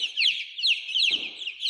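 A group of baby chicks peeps nonstop, loud and close, their rapid high cheeps overlapping in a busy chorus, with a brief low thump near the end.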